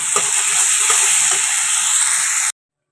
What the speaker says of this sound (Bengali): টমেটো আর মটরশুঁটি দিয়ে এখন ভালো করে মশলাটা কষিয়ে নিচ্ছি